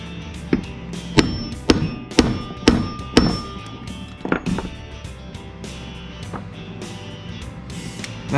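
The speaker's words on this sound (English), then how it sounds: "I think I'm gonna hit it with a hammer and a punch." Hammer strikes on a punch crimping a wire connector during a Triumph Spitfire engine swap to a Miata 1.6L, about six sharp metallic blows in an irregular rhythm, close and fairly loud, then quieter handling knocks.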